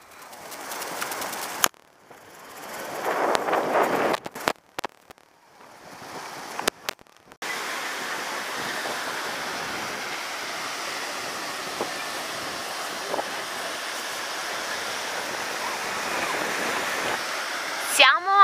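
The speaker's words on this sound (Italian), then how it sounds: "Purtroppo c'è un po' di vento e quindi il mare è mosso" Rough, wind-whipped sea at Baia dei Turchi in Otranto gives a steady, wide roar of surf and wind that runs for over ten seconds, after an opening stretch of uneven handling noise and voices.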